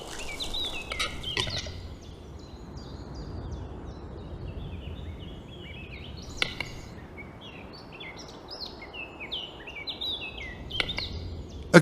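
A capercaillie calls in a mountain forest, a run of clicking, popping and gurgling notes repeated steadily over a soft breezy background, with a few sharper pops standing out.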